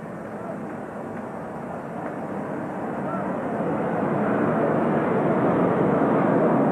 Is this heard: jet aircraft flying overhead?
yes